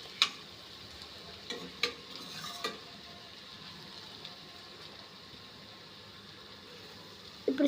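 A spoonful of ginger garlic paste fries and gets stirred in a pan for egg biryani: a soft, steady sizzle with a few spoon scrapes and clinks near the start and one more at the end, and no voices.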